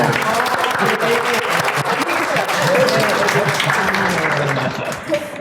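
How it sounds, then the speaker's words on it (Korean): Audience applause at a Korean talk event on queer people and their families, as the founding members are welcomed: dense, sustained clapping from a crowd filling the room, loud and close, with a voice or two talking over it. "박수 좀 쳐주세요."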